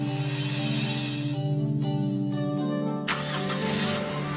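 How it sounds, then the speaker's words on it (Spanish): Car engine cranking and catching, a steady mid-pitched hum that jumps to a fuller roar near the end as it fires and settles. "Cuando se vuelve a poner en marcha el coche"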